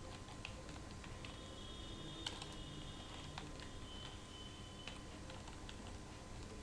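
Keys clatter on a computer keyboard as an IP address is typed, a quiet run of scattered light taps with short pauses, close by over a faint steady room hum.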